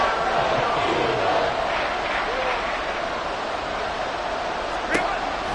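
A football stadium crowd roars steadily before a big third down, a dense continuous wash of cheering that holds at an even, loud level throughout, with a brief sharp whistle-like accent near the end.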